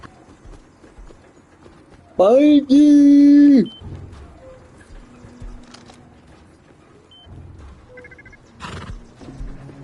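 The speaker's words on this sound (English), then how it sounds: "We got a horse in there." A horse in a PlayStation video game lets out a loud, drawn-out whinny, surrounded by quieter hoof clops and game sounds, while a person speaks briefly.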